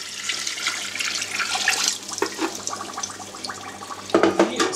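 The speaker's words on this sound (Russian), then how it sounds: "выливаю сюда воду." Water pours from a vessel into a small pot holding sugar, a continuous splashing stream that shifts in tone, then ends with a few clinks and a brief louder splash.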